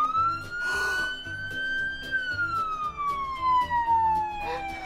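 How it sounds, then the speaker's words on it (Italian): A police car siren toy wails in a long rising and falling tone over a bouncy electronic beat, with a brief voice burst early on. "Esatto, è la sirena!"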